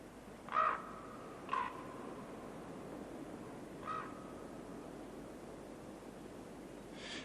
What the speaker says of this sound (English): Mobbing ravens drive them to the shelter of the trees.